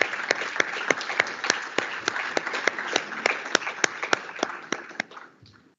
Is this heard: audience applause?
yes